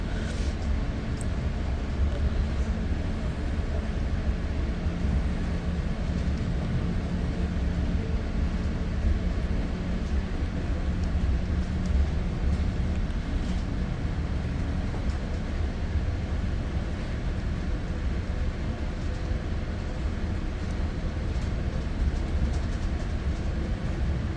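A winter ride aboard an exo commuter train on the Mascouche Line from Central Station toward Ahuntsic, heard from inside as a steady, loud rolling rumble and hum that continues unbroken with no talking.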